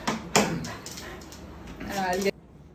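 A dog whimpers and yips excitedly in short high bursts, mixed with close talk, ending abruptly.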